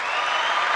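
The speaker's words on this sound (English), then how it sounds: "Yes, the crowd goes wild." A crowd cheers and applauds in a dense, steady wash of clapping and voices, loud and sustained throughout with no pauses.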